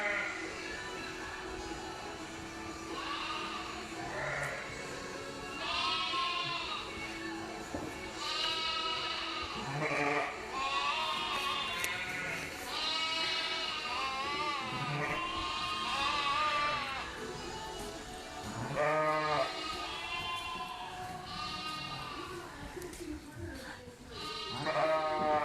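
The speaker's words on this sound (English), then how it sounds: "So there you go, there's our sheep." Sheep bleat repeatedly on a working sheep farm, a flock calling in overlapping, wavering cries, some near and loud, others farther off, continuing steadily throughout with faint background noise.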